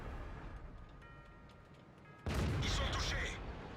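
A tank cannon shot in World of Tanks: a sudden loud blast cuts in midway and rumbles on, after quieter game ambience with faint ticking tones.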